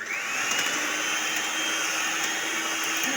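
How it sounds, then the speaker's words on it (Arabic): An electric hand mixer beats cake batter for a sour milk cake with chocolate and cinnamon, giving a steady, close, continuous motor whir with no break from start to finish. "غادي نمشي نضربو بالضرب الكهربائي"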